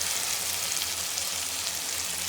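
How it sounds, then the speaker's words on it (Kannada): Bisi bele bath masala and sambar powder fry in hot oil, giving a steady, close, even sizzle and crackle that holds throughout with no talking. "ಇದು ನೀಟಾಗಿ ಫ್ರೈ ಮಾಡ್ಕೋಬೇಕು ಇವಾಗ ಎಣ್ಣೆಲೆ ಸ್ವಲ್ಪ ಫ್ರೈ ಮಾಡ್ಕೊಂಡಿದ್ದೀನಿ"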